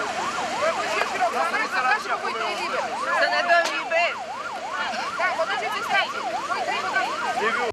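Several ambulance sirens wail at a crash scene where a coach rear-ended a sand-laden dump truck, their rapid rising and falling tones overlapping loudly and continuously amid traffic noise.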